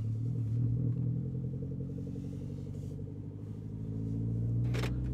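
A Mini Cooper S moving off and driving, heard from inside as a steady low engine and road rumble that holds throughout, with a brief brighter noise near the end and no talking.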